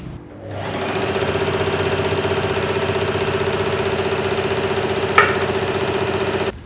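A Singer 4423 HD heavy-duty sewing machine runs at full speed, a loud, fast, steady mechanical chatter with a brief metallic clatter partway through as the bobbin falls.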